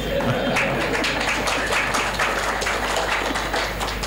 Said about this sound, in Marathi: टाळ्या एवढ्या जोरात वाजल्यात